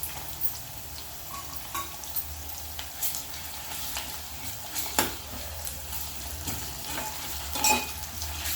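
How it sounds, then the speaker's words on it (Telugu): Ginger paste sizzling and frying in a pan for capsicum masala curry, a steady hiss broken by scattered stirring scrapes and light clinks of a utensil, close by, with no voices. "పచ్చివాసన పోయే వరకు ఫ్రై చేద్దాం"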